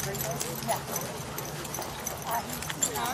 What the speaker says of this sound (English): now you're petting the pony